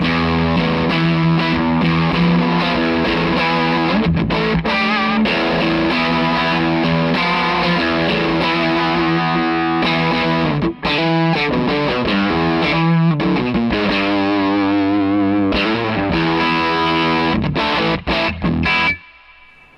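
Dense, continuous electric guitar runs through stacked distortion pedals, loud and saturated, with fast strummed and picked passages that barely pause for almost twenty seconds before stopping. No voices are heard.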